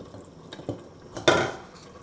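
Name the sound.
adding water to a pot to simmer vegetables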